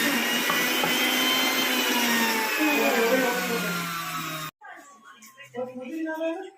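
A kitchen mixer grinder runs with a loud, steady high-pitched whine for several seconds, then stops abruptly and gives way to quieter sounds.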